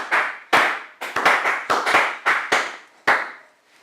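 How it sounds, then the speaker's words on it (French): Church congregation clapping to acclaim Jesus at an Easter communion service, about a dozen sharp, separate claps at uneven intervals, each trailing off with room echo and no voices over them. "Est-ce qu'on peut acclamer le Seigneur Jésus?"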